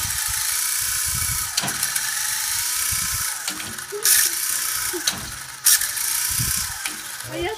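A small toy helicopter named Mosquito hovers close by with a steady buzzing, whirring rotor drone, broken by brief surges and clattering mechanical ratchet-like rattles as it moves up and down.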